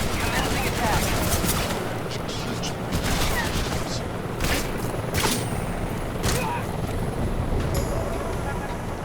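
Enemy soldiers open fire in the stealth action game Metal Gear Solid Delta: Snake Eater, a dense, continuous volley of gunshots and bursts sustained throughout, with voices heard over the fire.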